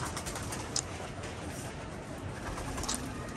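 Soft, low cooing of pigeons against a quiet outdoor background, with a couple of faint flutters or clicks.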